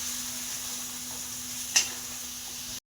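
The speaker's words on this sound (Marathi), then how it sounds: "मी कच्चं पनीर टाकलेलं आहे पहा छान असं मसाल्यात परतून देऊ" Raw paneer sautés in masala for palak paneer with a constant soft sizzle, then one brief scrape of stirring before the sound cuts out.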